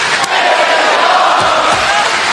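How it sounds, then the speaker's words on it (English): A packed wrestling arena crowd at the MGM Grand Garden Arena in Las Vegas roars and swells in a dense, loud, continuous wash of voices. "the swell of the crowd here in Las Vegas, MGM Grand Garden Arena"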